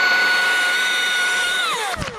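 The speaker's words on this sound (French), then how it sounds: "c'est pratique la tronçonneuse électrique, on peut discuter" An electric chainsaw cutting through a rotten oak, a steady high whining motor drone that holds for most of the clip, then drops in pitch and winds down with a brief crunch at the end; loud and close.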